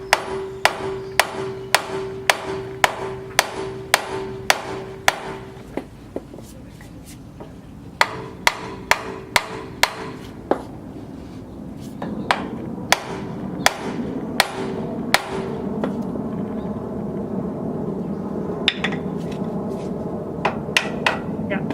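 Repeated heavy sledgehammer blows on a ball joint of a 2003 Sportsmobile 4x4, a steady series of sharp metallic strikes, close and loud, with a short pause midway before the pounding resumes.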